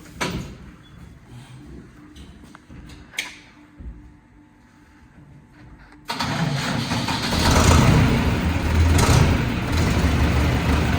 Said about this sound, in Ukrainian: А ну, Назар, заведи, як працює тракторець.